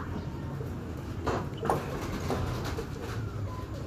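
Soft, low cooing from teddy pigeons in a loft, a few murmuring calls over a steady background hum, fairly faint and close.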